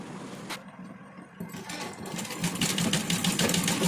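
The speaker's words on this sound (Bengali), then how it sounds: "এরকমভাবে পুরোটা সেলাই দিয়ে নিচ্ছি।" A sewing machine stitches around the edge of a pinned puff sleeve, its rapid motor-driven stitching running steadily and growing louder over the span, close by with no talk.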